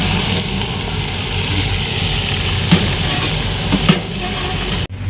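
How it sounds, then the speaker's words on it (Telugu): Mutton curry bubbles and sizzles loudly in a pot over a fire, a dense continuous frying hiss with a few clunks of stirring, close by, cutting off sharply near the end. "మటన్ కూడా ఉడుకుతుంది"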